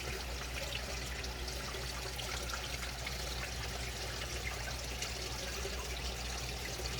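Water churns and splashes steadily as gunk is stirred up in a draining 75-gallon aquarium with plecos, a continuous close rushing wash with no talking.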